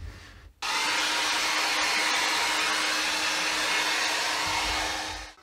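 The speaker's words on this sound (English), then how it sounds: "And then I go over and dry the whole thing with a hairdryer." A hair dryer switches on abruptly and blows with a loud, steady whoosh for several seconds before starting to wind down.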